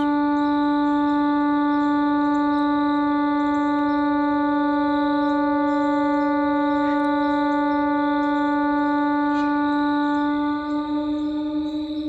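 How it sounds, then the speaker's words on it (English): A steady, loud mechanical siren sounds continuously, its sustained tone holding with rich overtones and only slight wavering. "It's like an air raid siren."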